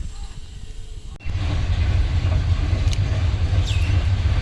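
A train rolls past near fields after an abrupt shift, a loud steady low rumble of wheels and carriages that fills the rest of the scene, with faint whistle-like tones briefly rising above it.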